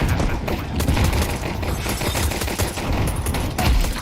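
A grenade blast and gunfire in a multiplayer shooter game: dense, continuous bursts of shots and booms fill the whole stretch at steady loudness, with no break.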